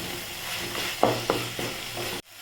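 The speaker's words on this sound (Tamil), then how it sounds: "நமக்கு தக்காளி வெங்காயம் நல்லா வதங்கிட்டு வரணும்" Tomatoes and onions with curry leaves sautéing in a pan for kothu chapati, a soft close sizzle with a few quick scraping stirs before the sound cuts off abruptly.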